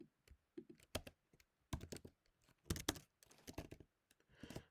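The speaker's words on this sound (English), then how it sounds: "That is not what I'm going to be typing." Keys clatter on a computer keyboard in uneven bursts of quick, close clicks and taps, separated by short pauses, with no voices over them.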